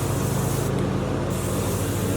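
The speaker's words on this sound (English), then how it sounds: "This is just cooking spray." Cooking spray hisses steadily from an aerosol can into a PVC mold as a release agent, one continuous close, loud spray with a brief dip in the middle.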